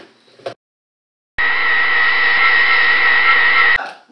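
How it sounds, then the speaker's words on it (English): A NutriBullet blender whirs steadily for about two and a half seconds as it purees a butternut squash sauce, a loud close motor drone starting abruptly after a brief pause and cutting off sharply. "I'm gonna throw it into my handy dandy NutriBullet, and then we're gonna mix it all up."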